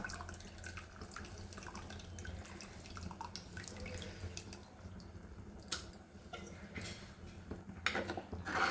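Soaked tamarind water pours into a pot of fried-fish curry, a steady close splashing and trickling with faint drips and a pot clink near the end, with no voices.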